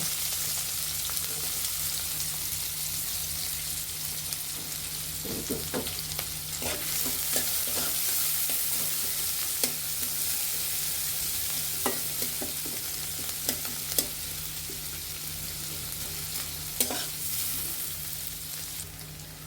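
Chopped onions fry in hot oil in a pan as a steady close hiss, with scattered spatula stirs and scrapes throughout and no speech.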